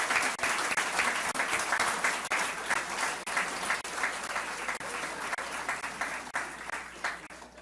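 Lecture audience at a library giving a warm round of applause for an anonymous donor; close, rhythmic hand clapping with individual claps audible, fairly loud and steady throughout.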